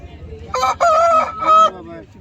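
A fighting rooster for sale at a Sunday rooster market in Vijayawada crows one loud, close call in several drawn-out, strained segments, with low market hum underneath.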